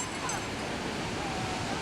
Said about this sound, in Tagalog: kaso kung makikita ninyo, napakalakas ng alon eh